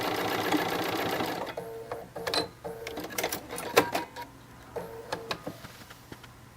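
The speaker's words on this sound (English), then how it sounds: "We're going to back stitch right here." A sewing machine back-stitching a fabric face mask, with a brief whirring run followed by a series of short, clicking stitch bursts and pauses, fairly close and moderately quiet.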